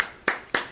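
Two sharp claps added as an applause effect during a casual Spanish-language podcast, each a crisp burst about a quarter second apart, with no talk over them.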